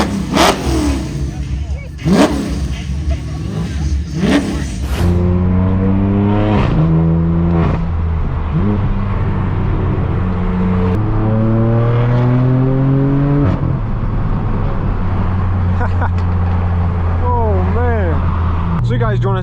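A BMW M8 Competition with a satin black wrap and AL13 wheels, over 900 horsepower, revs hard and accelerates through gears, its loud exhaust rising and dropping in repeated pulls, close up, with a voice heard early on.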